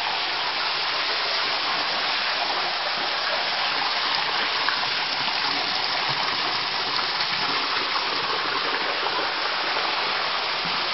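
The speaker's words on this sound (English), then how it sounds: "There's our waterfall." An indoor mini golf course waterfall feeding a stream gives a steady, full rushing wash of falling water, continuous and fairly loud throughout with no talk over it.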